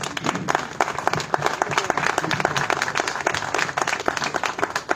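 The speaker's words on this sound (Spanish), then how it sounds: "Un aplauso para el profesor Héctor Martínez Pérez." Audience applause for a teacher at a gathering of chroniclers and historians in the Valley of Mexico: steady, dense clapping from a crowd that lasts the whole few seconds at an even, moderate loudness.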